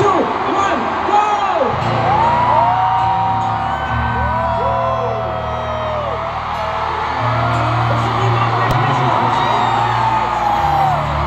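A large concert crowd at a pop group's world tour kickoff shouts, whoops and cheers continuously, with rising and falling yells from many voices filling the hall loudly throughout.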